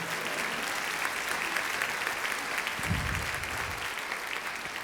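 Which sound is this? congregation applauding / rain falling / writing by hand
congregation applauding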